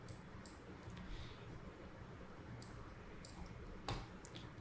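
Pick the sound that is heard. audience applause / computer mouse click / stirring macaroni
computer mouse click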